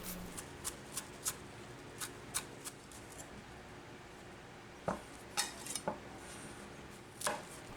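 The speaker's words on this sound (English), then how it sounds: "while the wok is heating up, we chop up all of our ingredients, namely ginger, garlic, and onion" Knife chopping ginger, garlic and onion on a board beside a heating cast iron wok, a sparse series of sharp, near taps in irregular bursts with quiet gaps, alone without talk.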